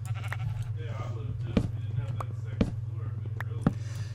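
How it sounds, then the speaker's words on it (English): Sheep in the Minecraft video game bleat in short bursts over a steady low hum, joined by sharp periodic thumps roughly once a second, with someone talking quietly under them. "And there's a bunch of sheep around here."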